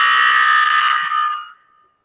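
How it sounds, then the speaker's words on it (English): A loud electronic buzzer tone signalling remaining time in an online presentation contest, one steady sustained blast lasting about a second and a half before cutting off, heard alone. "The buzzers will sound like this."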